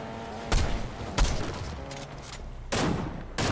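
Gunshots fire in the Fortnite video game, several sharp bursts in quick succession separated by short gaps, loud and close against a quiet game background.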